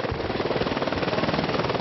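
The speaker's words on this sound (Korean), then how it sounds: "헬기가 뜨자 기분도 날아갈 것만 같다." A helicopter lifts off for a winter flight over Niagara Falls, Ontario, its rotor thumping in a fast, even, loud beat close by, with no voices.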